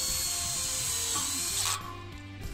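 Power screwdriver driving a screw to fix a clip onto a metal post of a composite slat fence, a steady loud whirring ratchet buzz for nearly two seconds, then stopping with faint handling clicks.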